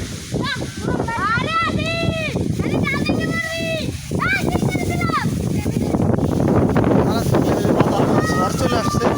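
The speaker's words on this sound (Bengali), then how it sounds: "ঝড় চলে আসছে, দেখতে পাচ্ছেন আপনারা কি পরিমাণ ঝড়" Strong wind from an approaching storm roars outdoors under dense clouds, a constant loud rush buffeting the microphone while people talk over it and a voice comes and goes.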